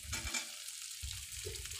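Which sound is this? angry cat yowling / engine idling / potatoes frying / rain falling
potatoes frying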